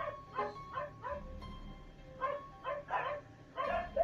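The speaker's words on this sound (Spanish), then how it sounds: "Calla tu perro" A dog in the Psicosis horror game barks in a series of sharp yips and woofs, in clustered bursts. It is moderately loud and close.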